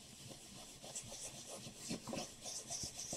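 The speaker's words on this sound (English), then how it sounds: "let's rub some candied apple on here and see how we did" Candied apple ink is rubbed onto a stencil, a soft, faint scrubbing and rustling with uneven strokes close by and no speech.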